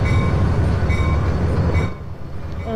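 A TRE train rolls along rails in a Roblox train game, a loud continuous low rumble with faint wheel squeal tones that drops quieter partway through, with no talking.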